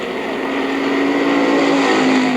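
Race cars at Mt Clemens Racetrack in 1984 run bumper to bumper, a loud, continuous engine roar with a rising pitch as they pass close by.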